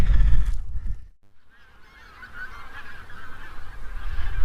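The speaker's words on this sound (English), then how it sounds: "I've upset the geese. They've taken flight as I walk too close." Geese honking loudly as a flock takes off in the countryside around Wartenberg, Germany, with a brief lull before a steady, continuous chorus of calls and wing noise close by.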